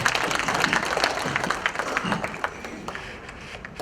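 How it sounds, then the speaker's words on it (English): Audience applause at a public procurement conference session, moderate and fairly close, fading gradually over a few seconds. "Can I request that we give him another round of applause?"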